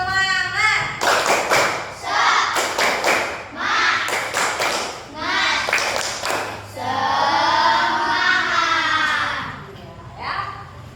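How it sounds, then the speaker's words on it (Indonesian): A classroom of children performs the Indonesian tepuk semangat spirit clap, with sharp claps in rhythmic groups alternating with loud chanted voices, all close and energetic. "Tepuk semangat."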